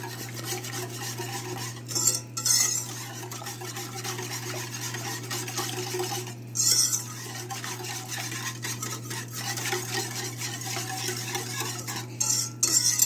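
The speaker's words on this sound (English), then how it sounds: "We're just going to whisk this up and just wait on it to heat up." Whisking a custard mixture with added liquid in a pot for old-fashioned chocolate rolls: steady scraping and clinking of the whisk against metal, continuous over a low hum, with a few louder bursts.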